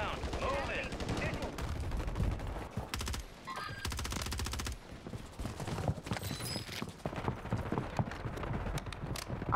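Gunfire from the video game Call of Duty Warzone on Rebirth Island: rapid bursts and repeated shots over busy game noise, with players talking throughout.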